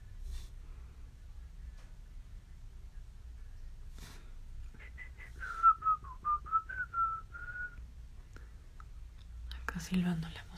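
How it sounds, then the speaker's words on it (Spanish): A person whistles a short tune in clear, wavering notes for a few seconds against a quiet background hum, with faint rustling around it. "Silbando la música"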